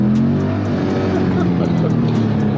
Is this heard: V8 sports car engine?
yes